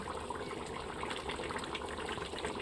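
Leftover spice-boiled water poured into a simmering chicken curry in a home kitchen, a steady close liquid gush and splash running continuously throughout.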